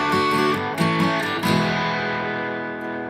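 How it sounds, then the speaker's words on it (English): A bright, dense musical chime flourish used as a podcast halfway-point marker rings out loudly, with a few struck accents early on before the tone sustains and slowly fades. "that sound is your halfway point reminder"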